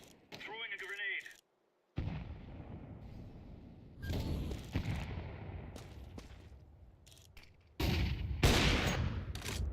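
Bursts of video game gunfire and explosive thuds, with a grenade thrown amid the shooting, come in loud broken volleys separated by short gaps.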